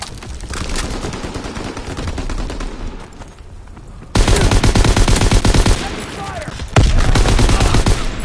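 Rapid bursts of gunfire from the World War II shooter Call of Duty WWII, with loud overlapping automatic fire continuing through the clip and growing louder in two sharp jumps near the middle and end.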